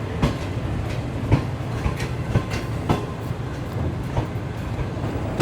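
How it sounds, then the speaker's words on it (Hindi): Shalimar Express passenger train pulling into Bahawalpur railway station in hot weather, a steady rolling rumble with repeated wheel clicks over rail joints, close and continuous throughout. "2:20 पर हमारी ट्रेन फाइनली पहुंच चुकी है जी नवाबों के शहर भावलपुर में"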